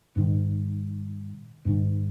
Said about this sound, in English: This is what a fifth sounds like